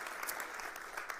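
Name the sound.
congregation applauding and cheering in church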